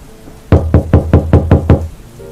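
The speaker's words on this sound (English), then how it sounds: "Zuma knocked on the door." Six firm, evenly spaced knocks strike a kennel door, loud and close in a quick steady rhythm, with quiet room tone before and after.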